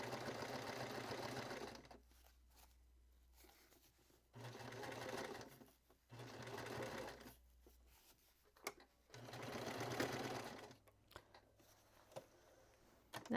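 Several runs of a sewing machine stitching side casings, each a continuous whirring buzz a couple of seconds long, separated by short pauses; nearby and moderately quiet.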